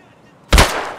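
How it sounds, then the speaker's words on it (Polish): A single loud gunshot in the video game Escape from Tarkov, a sharp close blast after near silence, followed by a short fading echo. "Jeszcze słychać dobre strzały."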